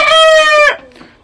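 Black Australorp chickens cluck and a rooster crows loudly and close by, one drawn-out crow that breaks off into softer clucking.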